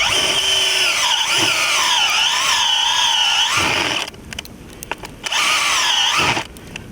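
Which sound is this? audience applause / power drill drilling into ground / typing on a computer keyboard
power drill drilling into ground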